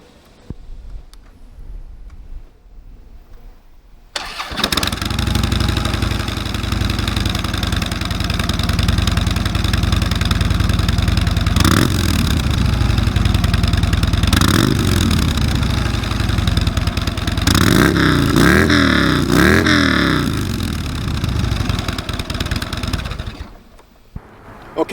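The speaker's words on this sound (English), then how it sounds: "Now I'm going to do a cold start. And then I'm going to do a couple of revs so we can see what they sound like." A 2012 Harley-Davidson Road King on stock exhaust pipes cold-starts after a few seconds of quiet, settles into a loud lumpy idle, then takes several sharp throttle blips before shutting off.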